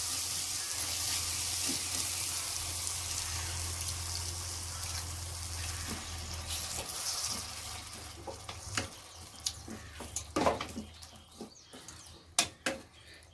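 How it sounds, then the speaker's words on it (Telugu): Water poured into a hot pan of egg and tomato curry, a steady frying sizzle giving way to sharp crackles and spits as the liquid hits the oil, close and moderately loud with no voices. "టమాటా మగ్గిన తర్వాత కొంచెం వాటర్ వేసుకోవాలి"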